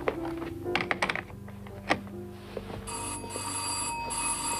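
A doorbell rings near the end inside a home, a steady bright tone after a few knocks and clatters, with a phone conversation having just ended.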